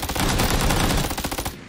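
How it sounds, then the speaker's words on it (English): Rapid bursts of gunfire in a shooter video game, loud and close, with repeated sharp shots running through the whole stretch and thinning toward the end. "Oh, I'm getting shot at."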